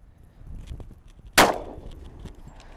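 A single sharp gunshot from a .40 S&W Smith & Wesson M&P pistol firing Hornady 155 grain XTP hollow points, one loud crack with a short ringing tail against a quiet outdoor background.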